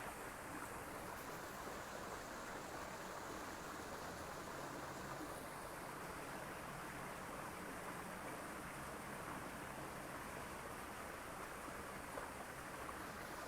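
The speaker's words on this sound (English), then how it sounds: "I'm not drowned out by the sound of the water" Flowing water and breaking waves roar in a steady, dense wash outdoors, loud and continuous with no pauses and no voices.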